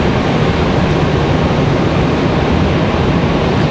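An American Airlines Boeing 737-800 jet arriving from Phoenix at Raleigh Durham, a steady loud broadband engine roar that holds constant and close throughout, with no talk.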